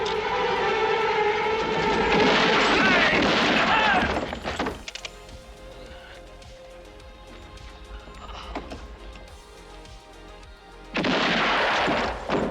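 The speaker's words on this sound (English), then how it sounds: "With cannons firing, Tuco does not care." Cannon fire in a Clint Eastwood western film: a loud rumbling barrage with crashing debris, then a quieter stretch of low noise and scattered sounds, and another heavy blast near the end.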